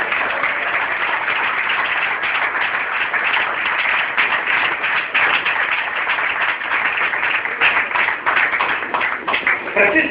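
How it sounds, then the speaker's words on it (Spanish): A church congregation breaks into sustained applause, a dense, even wash of many hands clapping that continues for several seconds with a voice speaking over it. "¿Cuántos pueden aplaudir a la palabra?"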